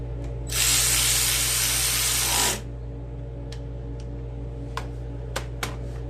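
8 mm bolts being tightened on the engine of a John Deere L130 lawn tractor: a loud two-second burst of a power tool, then a few sharp metallic clicks over a steady low hum.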